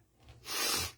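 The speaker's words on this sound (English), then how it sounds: "I'm still sniffling." One sharp, breathy nasal snort or sniffle, quiet at first and then swelling into a loud burst before stopping, with no talking around it.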